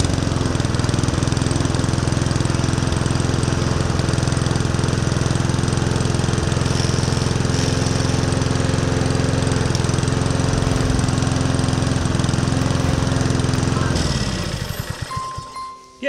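Champion petrol lawn mower engine running steadily for a long stretch, a loud, constant droning rumble, then cutting off near the end and winding down into quiet.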